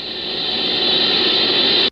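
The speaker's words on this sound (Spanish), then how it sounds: "Pero la Horn Antenna que utilizan recibe constantes interferencias." Background interference picked up by the Horn Antenna radio telescope, a steady, dense hiss of broadband static heard alone, holding at the same level before cutting off abruptly.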